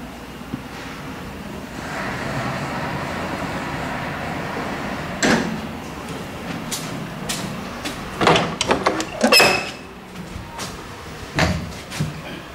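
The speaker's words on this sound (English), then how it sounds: "But first we're gonna ride this elevator here." A Siemens elevator in an abandoned post office runs with a steady low hum, then its door slides shut in a burst of clunks, rattles and bangs over the last few seconds.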